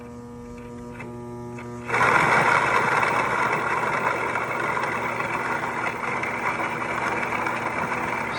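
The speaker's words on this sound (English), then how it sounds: "There used to be a hand crank that my dad rigged up a little DC motor to" A grain mill, converted from a hand crank to run off a small DC motor, hums steadily. Then grinding grain starts abruptly and continues as a loud, coarse, continuous whirring rasp.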